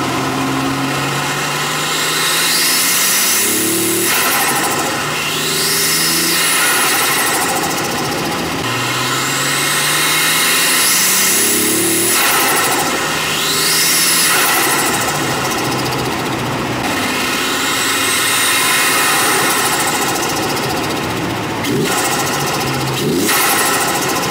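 Nissan 240SX engine recorded up close in front of the radiator while driving, a loud continuous drone with rising and falling rev sweeps as it accelerates and shifts, filling the whole clip with no talking.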